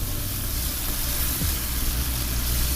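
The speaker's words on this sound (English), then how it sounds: "I'm actually going to add in my mushrooms now, so that they could start to cook down a little bit." Garlic and mushrooms sizzle in butter in a sauté pan, a steady dense hiss and crackle that carries evenly and fairly loud throughout.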